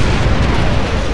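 A grenade goes off in the Star Wars Republic Commando video game, producing a single loud, close blast with a dense rumbling roar that fills the whole short moment.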